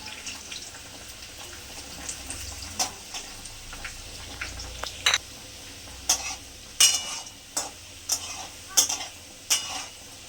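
Cinnamon, cardamom and cloves going into hot oil in a pan for mixed pulao, giving a light sizzle under a series of sharp clinks and scrapes of a spoon against the pan, growing busier toward the end.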